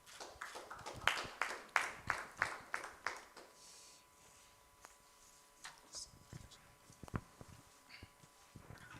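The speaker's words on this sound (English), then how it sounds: "Let's clap for him as he steps forward to give us a short note on this" Audience at a Uganda Sign Language program graduation ceremony clapping in a brief burst of applause, fairly quiet and distant, fading to scattered taps and room noise.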